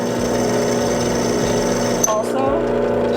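A drill press bores into metal during a twin-turbo engine build, a steady, loud motor whine running throughout, with a brief sharper squeal and a shift in tone near the end as the bit bites; voices are present.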